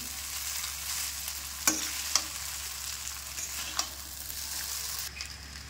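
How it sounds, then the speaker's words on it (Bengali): Chowmein noodles stir-fried slowly in a pan with onion, chilli and oil: a continuous close sizzle, broken by a few sharp scrapes of a spatula against the pan, with no voices. "চাউমিনটা একটু আস্তে আস্তে আমি ভেজে নিই।"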